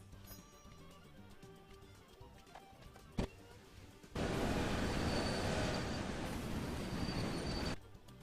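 Trains rumble along the tracks in the railway video game Railway Empire: a quieter rolling background with clicks, then a loud broadband roar of a passing train for several seconds that cuts off abruptly.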